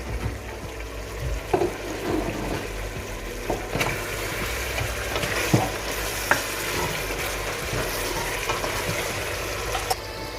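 Ground masala stirred into frying degi mutton korma in a pot, giving a steady low sizzle with scraping stir strokes and a few sharper clinks of a spoon against the pan, with no talking.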